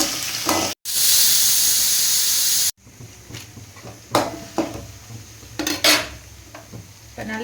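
Shallots, curry leaves and tomato sauté in a pan for a mutton curry, with a dense sizzling rush early on, then scattered clinks and scrapes of a utensil stirring against the pan.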